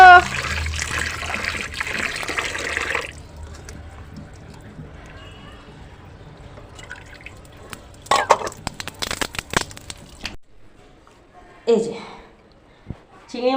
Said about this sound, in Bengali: আস্তে জল ফেলো